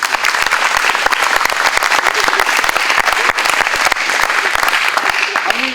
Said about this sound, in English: I want to give you guys a round of applause for that